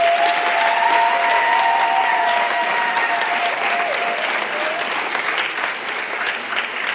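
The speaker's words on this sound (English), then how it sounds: "One more round of applause for all our seniors" Sustained audience applause for graduating seniors at a school final assembly, a full room clapping steadily and loudly with a faint tone ringing beneath it.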